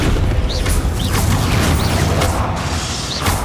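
Descendo spell impact in the Hogwarts Legacy video game, a dense, loud booming slam of crashing noise that fills the whole moment with a rumbling roar.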